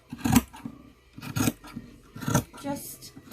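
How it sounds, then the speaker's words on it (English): Scissors snipping and notching fabric for a custom flare-leg pant order in a studio, several separate close crisp cuts in an uneven rhythm, with a voice talking in between. "So just going to notch a little hole right there"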